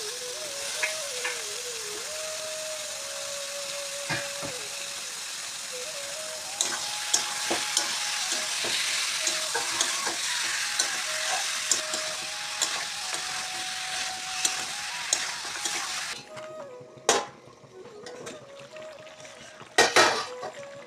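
Meat frying in a pan with potatoes, a loud continuous sizzle with scraping stirs and utensil knocks throughout, easing off near the end with a few sharp clatters, no talk.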